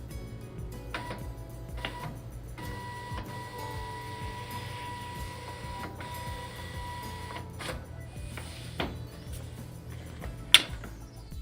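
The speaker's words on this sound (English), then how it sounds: "Select Check to begin calibration." Mechanical whirring and ticking of a Zebra ZT411/ZT421 industrial label printer running auto calibration, a steady low motor hum with short feed bursts and a sharp click near the end, close and moderately quiet, with no talk.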